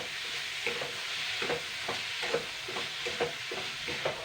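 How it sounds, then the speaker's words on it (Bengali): A moong dal filling with sugar, coconut and salt being stirred in a pan, with repeated soft scraping strokes in a steady rhythm over a faint background hiss, close by and with no talk. "এগুলোকে ভালো করে নাড়াচাড়া করে নেব চিনি নারকোল করা আর নুনটা অবশ্যই দেবেন"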